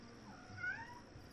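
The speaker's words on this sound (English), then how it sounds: "My cat's yelling at me." A house cat gives one short, rising meow, fairly quiet and close, over a low steady background hum.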